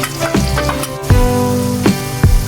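Ginger, garlic and cumin paste fries in a pan while chicken biryani is being cooked. A loud, close sizzle runs under several distinct clanks and scrapes of a utensil against the pan, and no one speaks.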